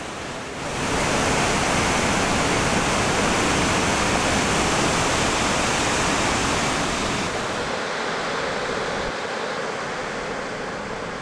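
Gullfoss waterfall in Iceland roars as a steady, dense wash of falling water, loud and continuous from start to finish with no voices.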